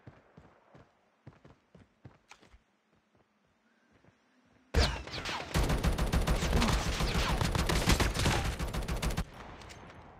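Call of Duty gunfire in an abandoned factory: a few soft, scattered footstep-like taps, then a sudden, loud, dense burst of rapid automatic fire lasting about four seconds before cutting off.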